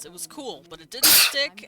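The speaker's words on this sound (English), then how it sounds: "Sneezes. Bless you." A single sharp, loud sneeze bursts out in the middle of someone's speech, with talking continuing just before and after it.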